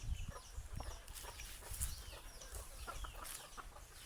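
Chickens at their roost on a farm, soft scattered clucks and low murmurs from several birds, quiet and fairly close, with no talking.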